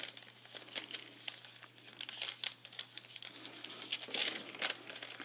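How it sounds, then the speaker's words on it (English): Cardstock paper being folded along score lines into a gift bag, giving steady crinkling and crisp creasing rustles close up, with no talking. "I need to fold on my score lines, and it's just like making a paper sack, gift bag"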